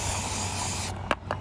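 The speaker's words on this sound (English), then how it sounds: "I'll just spray my rag." Two quick, sharp hissing sprays from a trigger bottle of Pig Spit cleaner onto a rag, close by, following a steady low background hum.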